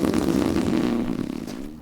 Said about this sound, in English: maybe if I fart a bunch, it'll propel me forward